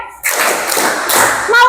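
Three sharp hand claps in quick succession, close and loud, with a brief ringing tail after the last.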